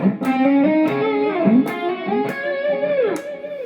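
Electric guitar run through a Mooer GE-200 multi-effects unit with delay and reverb, playing a sustained, bending solo line with sharp picked attacks every half second or so and echoes trailing beneath, loud and close with no talking.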